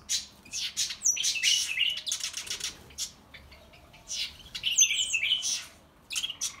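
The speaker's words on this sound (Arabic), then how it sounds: "هذا صوته ابو عسمه، صوت النابليون مثل العصفور بالضبط." A Napoleon weaver bird calls nearby, giving sparrow-like rapid chirps and buzzy twittering phrases in several bursts separated by short pauses, fairly faint against a quiet background.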